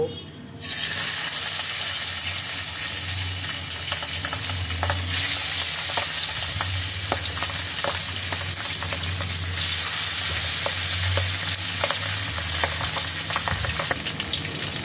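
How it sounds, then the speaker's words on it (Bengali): Pabda fish fry in hot mustard oil in a karahi with a loud, steady sizzle and bubbling crackle close by, broken by occasional utensil knocks, continuing throughout after a brief quiet start. "এবার আমি মাছগুলোকে ভেজে নেব।"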